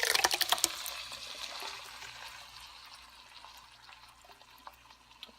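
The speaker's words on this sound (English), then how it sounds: "To this we're going to add the crushed tomatoes. I'm going to put the whole thing in." Whole can of crushed tomatoes poured onto browned sausage for stuffed zucchini; a close wet glugging splash at the start that fades into a soft sizzle and faint trickle.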